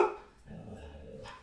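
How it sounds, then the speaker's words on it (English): A pet dog, Scarlett, gives a short bark followed by softer growly yips, faint and close, in a quiet indoor room with no talking. "That's my dog Scarlett, she's saying hi."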